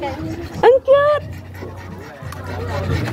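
A dog out on a hiking trail pants rapidly and close by, with a brief high whine early on and quieter breathing continuing afterward.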